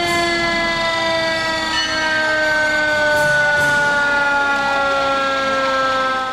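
A New London fire truck siren wails steadily and loudly during a parade, its rising and falling tones sustained throughout with a faint engine rumble beneath and no talk.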